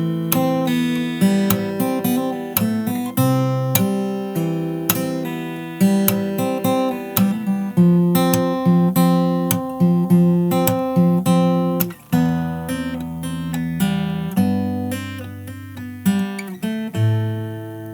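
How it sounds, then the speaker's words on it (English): Fingerstyle acoustic guitar plays a song arrangement, plucked notes and chords flowing continuously with sharp percussive body hits landing on the backbeat, close and alone with no talking. "if you want to add in the percussive hits, it's going to sound like this"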